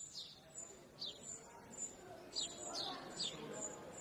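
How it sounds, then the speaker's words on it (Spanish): Small birds chirp and tweet in short, sharp calls scattered through the quiet air of Cáceres, a Spanish heritage city, faint against a soft background hiss. "Pero quizá antes estuvo el canto de los pájaros."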